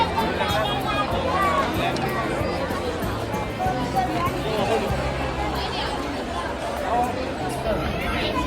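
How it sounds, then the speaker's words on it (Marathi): Dense crowd chatter fills the ticket queue at Byculla Zoo in Mumbai on a busy Sunday, an unbroken close babble of many voices with occasional footsteps and movement. "आज संडे असल्यामुळे फुल गर्दी आहे"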